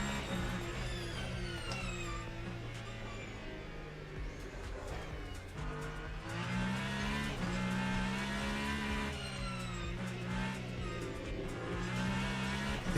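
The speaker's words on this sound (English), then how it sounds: "This car sounds like a bloody dishwasher." A racing car engine in a sim racing video game drones and revs loudly and continuously, with occasional tire squeals over the steady roar.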